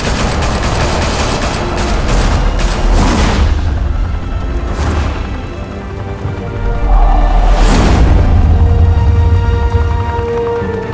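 Loud bursts of game gunfire in Batman: The Telltale Series, with repeated sharp shots and booming blasts pounding across the clip and almost no talk.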